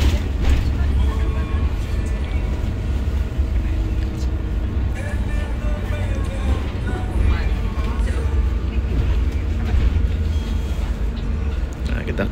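Intercity bus rolling out of a terminal in Denpasar, its low engine drone and cabin rumble steady and loud throughout, with faint mechanical rattles on top and no clear talk.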